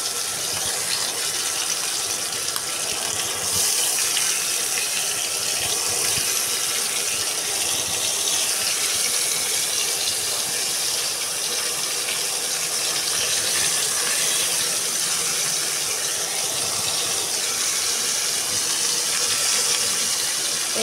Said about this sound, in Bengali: এই তো পাঙ্গাস মাছ তো ভেজে নিচ্ছি, দেখো সবাই।